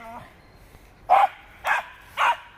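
A puppy barks three times in a Ram ProMaster van, sharp, close yaps spaced about half a second apart after a brief faint whine.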